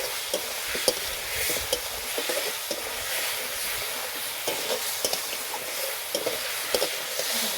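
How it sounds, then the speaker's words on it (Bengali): Fried fish head stirred and sautéed with spice paste in a pan, giving a steady close sizzle with repeated scraping and stirring clatters throughout, no talk. "এরপর আমি সে ভেজে রাখা মাছের মাথাটা দিয়ে দেবো, দিয়ে এটাকে আমি মশলার সঙ্গে ভালোভাবে কষিয়ে নেব।"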